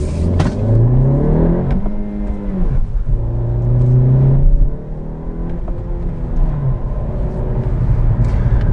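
A 2020 Honda Civic Sport Touring hatchback with a 6-speed manual accelerates hard. Engine pitch climbs, drops sharply at a rough gear change, then climbs again in a steady, close rev.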